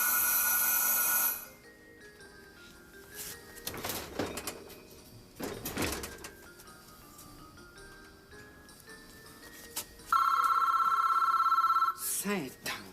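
A telephone rings in bursts of bright electronic trilling, loud at the start and again later, with quieter shuffling sounds, footsteps and clatter between the rings.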